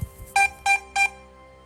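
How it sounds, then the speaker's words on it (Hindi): A crashed drone sounds its locator alarm: three bright electronic beeps evenly spaced a quarter second apart, loud and close, with nothing else around them. "स्टार्ट फ्लैशिंग एंड बीपिंग, तो ड्रोन कुछ इस तरह से आवाज़ करेगा और फ्लैशिंग करेगा।"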